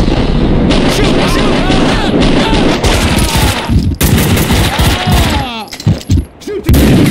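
Dense gunfire from the Max Payne 2 video game, loud and sustained, with rapid shots and bursts over heavy game noise, while voices shout over the action.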